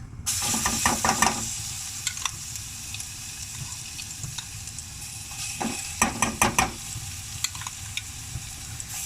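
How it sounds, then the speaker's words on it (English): Minced garlic sizzles in hot oil in a saucepan, a steady close crackle with bursts of louder spatter and stirring scrapes early on and again near the end. "Once the oil is hot, we'll add our rest of our minced garlic."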